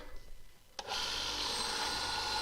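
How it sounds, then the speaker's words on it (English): A woodturning gouge is sharpened on a grinder: after a brief quiet and a sharp knock, a steady, bright grinding hiss starts abruptly and holds evenly. "Sharpen the gouge again."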